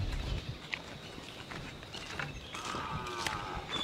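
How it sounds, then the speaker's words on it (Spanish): Soft thuds and shuffling steps of cows moving about at a moderate distance, with faint rustling and no talking. "Son las vacas que andan por ahí."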